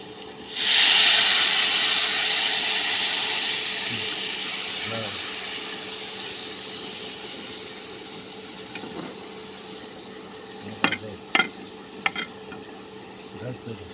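Taro curry with broth poured into the hot pan: a loud, sudden sizzling hiss that slowly fades over several seconds, followed by a few sharp clinks of a utensil against the pan.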